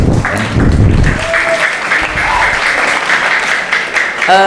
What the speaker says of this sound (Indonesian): tepuk tangan untuk para pemuda